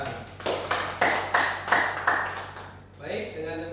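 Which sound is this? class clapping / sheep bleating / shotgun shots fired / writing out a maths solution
class clapping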